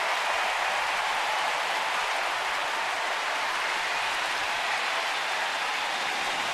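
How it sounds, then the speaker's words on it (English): Baseball crowd in Washington cheering after a Nationals double: a broad, continuous roar of cheers and applause from a large stadium audience, sustained and fairly loud throughout. "The crowd been waiting for something to cheer about all night long, and they got it."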